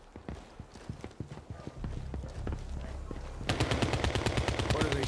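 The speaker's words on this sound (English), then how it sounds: "What are they shooting at?" Gunfire in the video game CrossfireX: scattered distant shots at first, then from the middle a dense, loud run of rapid automatic bursts with sharp repeated cracks.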